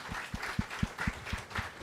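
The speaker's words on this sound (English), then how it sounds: "You want to give him a round of applause for sharing that, yeah?" Audience applause at a management institute conclave on the future of work: faint, sparse claps in a steady rhythm, roughly eight distinct hits spread over a couple of seconds, thin and distant.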